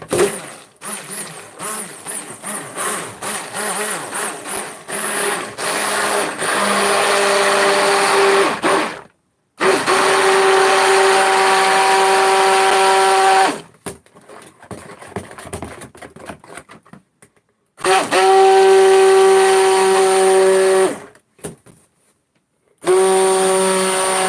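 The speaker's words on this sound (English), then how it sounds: "We're going to blend this up." A blender whirs loudly in several bursts mixing cold process soap batter, stopping and restarting with short pauses between runs, close by.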